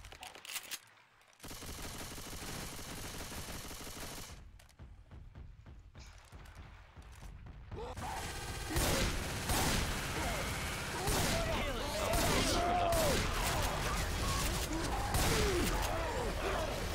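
Rapid bursts of video game gunfire from Left 4 Dead 2, dense and continuous, growing louder and busier in the second half with scattered explosive booms.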